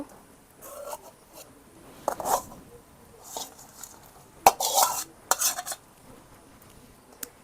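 Fish pieces go into simmering Bengali fish curry broth in a pan, heard as scattered close clinks, scrapes and rubbing of a utensil against the pan, with soft sizzling and bubbling between irregular, fairly quiet bursts.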